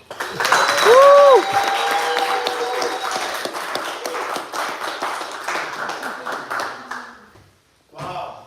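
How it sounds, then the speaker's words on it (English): Audience applause breaks out at a live business showcase for a company president, dense clapping filling most of the stretch with a voice and a feedback-like whine early on, then fading before speech resumes. "Please give him a round of applause as well."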